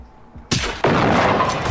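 Two loud gunshots from the video game Generation Zero, the second following closely after the first, with a long echoing boom trailing away, close and with no voices.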